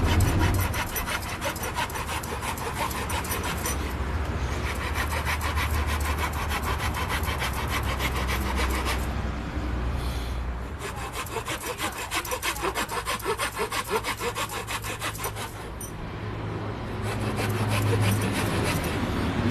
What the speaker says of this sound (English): The way you use a rasp is you slowly rotate it as you go up back and forward